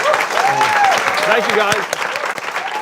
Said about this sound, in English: Let's give the candidate a round of applause.